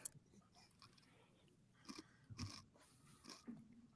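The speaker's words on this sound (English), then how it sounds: "I got some really extra crunchy potato chips, Gabe." Someone munches extra crunchy dark russet potato chips, giving a few faint, scattered crunching bites spaced over several seconds against a quiet background.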